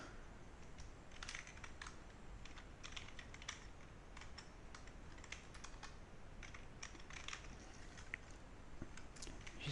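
Quiet, rapid clicking of a computer keyboard being typed on steadily for several seconds, close by, with no voices.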